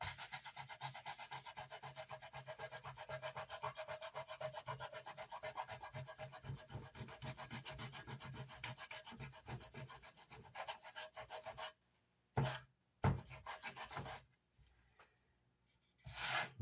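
Wooden baffle for a Vox AC30 amp being sanded along its edges, a continuous close scratchy rubbing in fast strokes, then breaking into pauses with a couple of short scrapes near the end.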